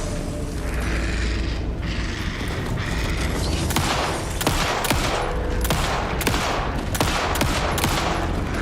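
Gunfire in the video game Alan Wake 2, a run of sharp shots and booms in irregular rhythm over a dense, loud roaring background, with no talk.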